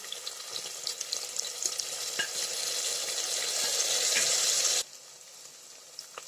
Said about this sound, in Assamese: এতিয়া মই ইয়াতে মছলাখিনি দি ভাজিম